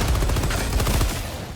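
Heavy autocannon fire in the video game Helldivers 2, a dense burst of loud, rapid booming shots that thins out toward the end, with no talk over it.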